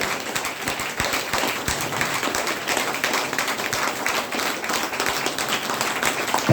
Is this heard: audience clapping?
yes